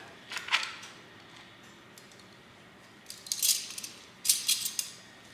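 A knife cuts into shio-koji marinated chicken thighs, producing three short bursts of soft scraping and slicing separated by quiet gaps, close and faint with no talking.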